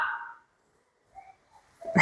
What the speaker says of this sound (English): We have another dog in here. You might be able to hear that.